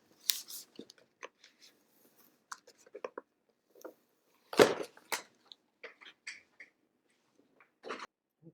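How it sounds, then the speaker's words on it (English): Several short, crisp snips of scissors cutting infusible ink sheets scattered through a quiet stretch, with one louder, fuller cut near the middle and faint handling noises between. "I am going to use scissors to separate these"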